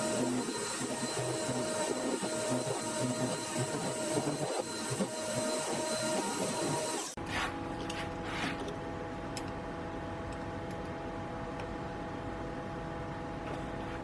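Slitting saw with a 1.2 mm thick blade machining a cut on a low-profile arbour, a steady loud whirring grind that drops abruptly midway to a quieter continuous machine hum.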